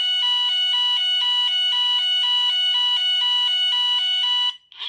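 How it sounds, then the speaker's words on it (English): A Gent fire alarm sounds loud and close, a steady two-tone electronic pattern pulsing in a fast, even rhythm before cutting off abruptly near the end. "This is a fire alarm."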